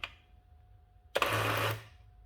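An electronic printing calculator prints a number, one short burst of fast mechanical chattering after a quiet key press, loud and close, then silence.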